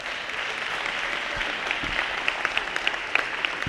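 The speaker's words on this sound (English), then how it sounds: "can we just give the Mayor one more round of applause?" Round of applause for the mayor at a neighborhood plan presentation, steady moderate clapping from an audience with a few louder individual claps standing out.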